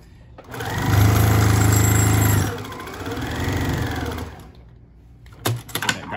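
A sewing machine stitches a fabric medical mask, running steadily at high speed in a long loud stretch, then a second softer run, ending in a few short clicks and rattles.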